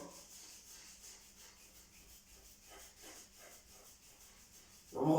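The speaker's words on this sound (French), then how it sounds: "on frotte verticalement" Fingers rub the ears up and down during a self-massage, giving faint, rhythmic, close-up brushing strokes that repeat evenly. A louder rustle comes at the very end.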